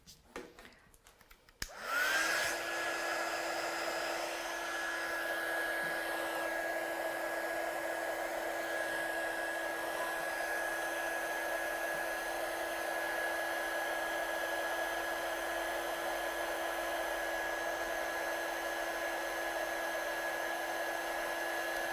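A heat tool switches on with a click and blows a steady, close, high-pitched whirring stream of hot air, heat setting gold embossing on a green backing card for a vellum Christmas card.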